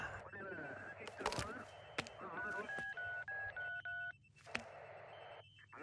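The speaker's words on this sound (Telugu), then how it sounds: "ఫోన్ చేయవయ్యా" A telephone is dialed in a tense movie scene: a rapid run of distinct, evenly spaced tone beeps at close range, amid sharp clicks and background sound, with speech nearby.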